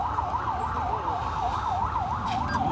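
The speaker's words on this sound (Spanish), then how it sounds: "La ambulancia." An ambulance siren wails in a steady rapid up-and-down pattern, moderately loud over low traffic rumble.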